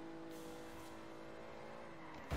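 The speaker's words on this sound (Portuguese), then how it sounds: "É um motor elétrico e um motor gasolina, velho." A hybrid car with an electric motor and a petrol motor runs at a steady, faint, droning hum with an unchanging pitch, then a brief louder bump right at the end.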